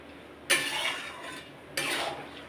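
A knife slices a mango into thin strips for pickle, giving two separate crisp cutting strokes against a board about a second apart in a quiet kitchen.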